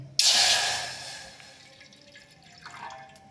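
Half a glass of water poured into a pot, a brief splashing burst near the start that fades, followed by a faint trickle.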